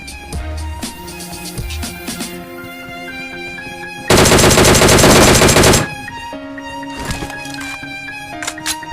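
A battle royale game unloads a burst of rapid automatic gunfire lasting about two seconds, loud and dense, with single shots and other game sounds around it.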